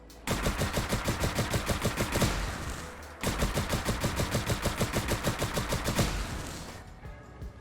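Makeshift laser rifle firing full auto in Fallout 4, two long bursts of rapid, evenly spaced zapping shots separated by a brief pause, loud and close, trailing off at the end.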